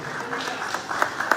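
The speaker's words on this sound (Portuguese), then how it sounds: "Os que podem, tomem seu assento aplaudindo a Jesus" A church congregation applauds during a worship service, a soft spread of clapping with a few sharper claps standing out, mixed with faint voices in the hall.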